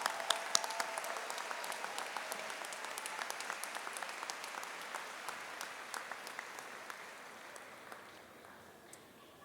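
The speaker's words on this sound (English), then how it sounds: "can we please have another collective round of applause?" A large convocation audience gives a sustained round of applause, dense clapping that fills the hall and slowly fades toward the end.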